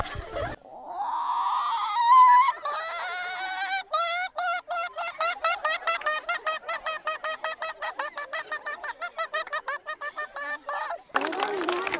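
A person mimics an egg-laying hen's cackle, opening with a drawn-out call and then a long rapid run of clucking pulses, close and fairly loud, ending in a short noisy burst.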